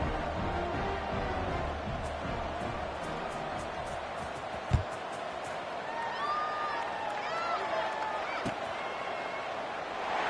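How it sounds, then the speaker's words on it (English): A college football stadium crowd at a Miami versus Florida State game keeps up a steady roaring murmur after a score, with a thud partway through and faint whistles and shouts scattered across the din. "this crowd is buzzing after that last score"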